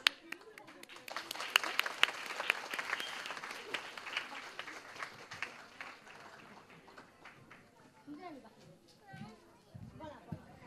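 Applause for students at a kids' event, a loud burst of clapping and cheering that gradually thins and fades, with children's voices and talk emerging toward the end.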